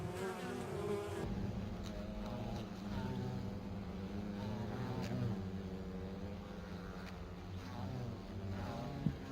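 Honey bees fly into a hive carrying pollen, their dense buzzing drone steady and close throughout, with a faint click near the end.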